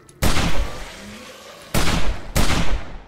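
Gunshots in a video game, fired from the hip at the bottom of a hill: three loud, close reports, each trailing a short rumbling decay, the first two spaced apart and the last following quickly.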